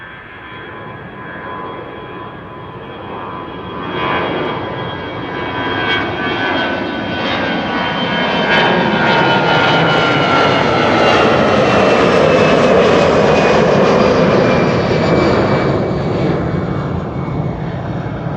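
A Vueling airliner, registration EC-LVP, takes off from Amsterdam Schiphol bound for Barcelona, its engine roar building from moderate to loud and holding steady as it climbs nearby, with no talk over it.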